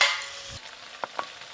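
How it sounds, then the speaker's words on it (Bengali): A paste of onion, ginger and garlic fries in a pan for prawn malai curry, giving a brief hissing sizzle that fades, followed by two sharp stirring clicks. "আদা রসুন আর পেঁয়াজ বাটা ভাজা হতে হতে"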